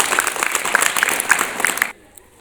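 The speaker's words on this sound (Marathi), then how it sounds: "हां, व्हेरी गुड, टाळ्या वाजवा." Students in a classroom clap together in a burst of quick, fairly loud applause lasting under two seconds, then it stops abruptly into quiet.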